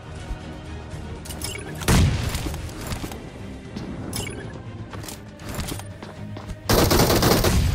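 Gunfire in a fight in the battle royale game BGMI: rapid automatic bursts and single heavy shots crack close and loud, with two sharp, dense volleys standing out among scattered rounds.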